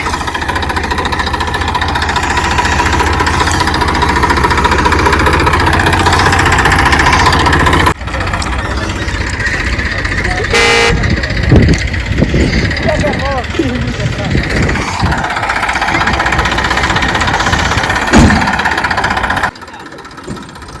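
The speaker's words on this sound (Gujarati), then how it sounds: "ચલો મિત્રો આપણે ટ્રેક્ટર તો ભરીને હેડ્યું હવે ઘરે." A tractor engine runs steadily while driving home loaded with harvested castor crop, a loud continuous rumble with a change in tone partway through, and people talk over it.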